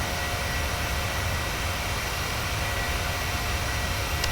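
Steady, unbroken engine roar of a Boeing 737-600 jet in an Austrian Airlines livery in a flight simulator, a broad even hiss and drone holding level throughout with no voice over it.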